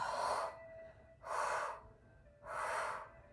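Three even breaths out during a rehabilitation mat yoga breathing exercise, each a soft, airy whoosh lasting about half a second and spaced roughly a second apart, close and clear against a quiet room.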